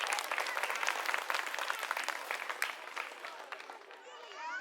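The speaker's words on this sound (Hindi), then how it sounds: "पहले तो एक बार ताली अपने लिए बजा लीजिए आप लोग" An audience at an outdoor political rally in Delhi claps for itself in a dense, steady burst of applause that gradually thins toward the end, with a voice heard faintly at the close.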